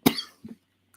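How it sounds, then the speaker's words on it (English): One close, forceful cough opens, followed by a couple of softer throat sounds and then quiet, during a live sports news broadcast. "I'm trying to hold off that cough. It's coming."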